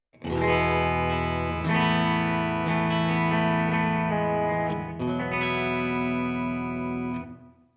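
Distorted electric guitar chords through a simulated 2x12 closed-back cab with Fane speakers ring out loud and sustained with heavy reverb, changing a few times before a final chord fades.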